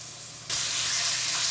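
Meat hits a hot pan and bursts into a loud, steady sizzle that continues evenly to the end, after a quieter lead-in, while cooking for a burrito bowl.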